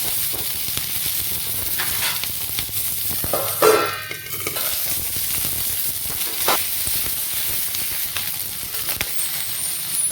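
Green chilies frying in a little oil in a pan, a steady loud hissing sizzle lasting the whole stretch, with one brief burst of louder spattering and a few light stirring knocks.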